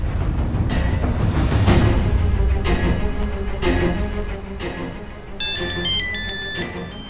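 Background music plays with steady beats, then an electronic ringtone chimes a bright, repeating melody for about a second before stopping.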